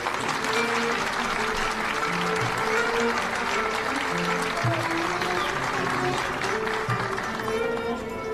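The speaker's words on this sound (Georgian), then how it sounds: "ახლა კი აპლოდისმენტებით მივესალმოთ სელმა ჰიუნელს." An audience gives sustained, even applause to welcome singer Selma Hünel, a continuous wash of clapping with faint voices beneath it.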